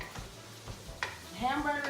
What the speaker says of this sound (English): my ground beef is browning